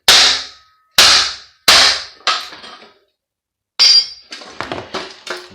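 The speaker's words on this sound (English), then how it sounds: "Let's give that a bit of a hammer." A hammer striking a metal part on a boiler motor being scrapped, several sharp, loud metallic blows with ringing decay, then a pause and a flurry of lighter knocks and clinks.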